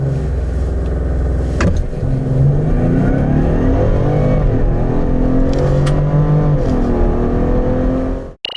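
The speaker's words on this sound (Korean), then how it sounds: "에비에이터 PHV 과연 얼마만큼의 가속 성능을 보여주는지" A 2021 Lincoln Aviator plug-in hybrid SUV accelerates hard from a standstill, its engine note climbing loudly and steadily through the run before dropping away abruptly at the end, heard from inside with no talking.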